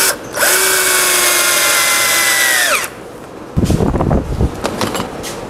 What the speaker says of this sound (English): I'm attaching the bottom wheel braces using these power-coated newfangled lag bolts.